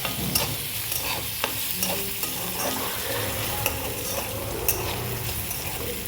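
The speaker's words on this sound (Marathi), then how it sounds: "लसूण फ्राय होऊ देऊया. मिरची लसूण छान फ्राय झालं आहे." Garlic and green chili fry in hot oil in a pan, a close, continuous sizzle with a spatula scraping and tapping now and then across the bottom, without speech.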